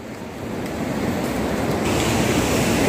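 Surf rolls in at ECR beach in Chennai, a steady, loud roar of breaking waves that slowly swells, with wind buffeting the microphone and no voices.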